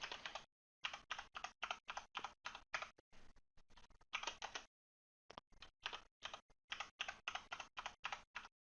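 Quick bursts of keystrokes on a computer keyboard as a password is entered, close and crisp, clattering in uneven runs with a short pause in the middle.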